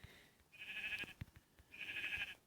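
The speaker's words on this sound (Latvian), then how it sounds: "tur viena aita, šeit viena aita." Two bleats from a sheep in Minecraft Pocket Edition, each a nasal, wavering call lasting about half a second, separated by a short gap with faint clicks and thumps, moderately close and with no talking.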